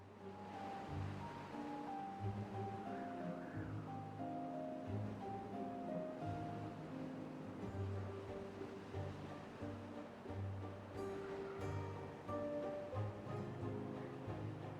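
Steady rushing water pours from nine water sources in a Timberborn map, a continuous wash of flow under soft, muted background music.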